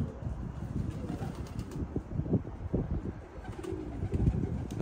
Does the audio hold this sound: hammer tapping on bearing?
no